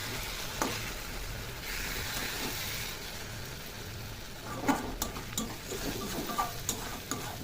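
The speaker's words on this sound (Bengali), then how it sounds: "মাছটাকে আমি নেড়ে দেবো, মাছের ডিমটাকে।" Fish roe frying in a karahi, with a steady hiss of sizzling oil throughout and scattered scrapes and taps as a utensil stirs the pan, close and continuous.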